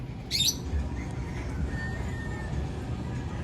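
A bird near a pigeon loft gives one short, sharp squawk early on, then a quieter chirp later over a low outdoor rumble.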